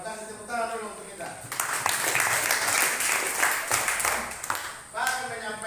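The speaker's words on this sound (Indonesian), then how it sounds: "Tepuk tangan dulu untuk kita" A classroom of students applauds together at the start of a lesson, a dense burst of clapping lasting several seconds between stretches of a teacher's voice.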